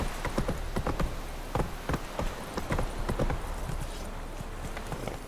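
Roach, a horse in The Witcher 3: Wild Hunt, gallops with a rapid, uneven clip-clop of hooves that comes close and loud against a soft ambient bed, and no one speaks.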